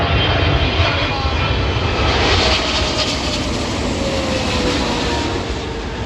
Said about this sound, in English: Now with Qatar Airlines, Dreamliner 777 coming from Doha.